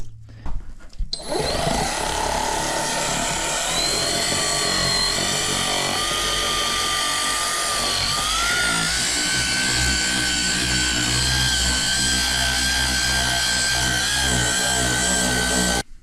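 Small orbital sander/polisher working over Ford Ranger bodywork in a garage spot repair, a loud continuous high-pitched motor whine with a grinding rasp that starts abruptly and runs steadily without talk.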